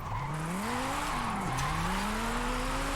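A race car from a Formula Drift car pack in a video game drones loudly at high revs, its engine pitch climbing, dipping briefly and rising again under a steady roar with a hint of tire noise.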